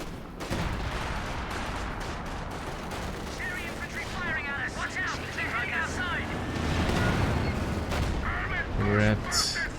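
Artillery barrage in a Company of Heroes match, dense rumbling blasts and crackling impacts rolling on through the clip under a caster's commentary, with swelling explosions and scattered gunfire in the mix.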